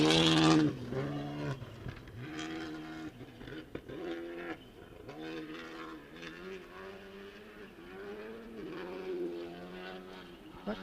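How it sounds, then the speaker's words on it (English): A Skoda rally car's engine running rough on a special stage, a loud, uneven revving drone with wavering pitch and stuttering dips, close by and steady, with no talk over it. "That car doesn't sound quite right."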